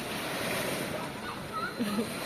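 Sea waves wash steadily onto the shore at a beach, a continuous broad rush of surf with wind buffeting the microphone, close and fairly loud.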